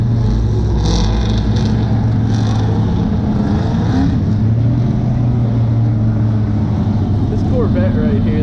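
Car drifting at LS Fest, a Chevy LS engine event, heard as a loud, steady engine roar with rising revs, spectators talking over it throughout.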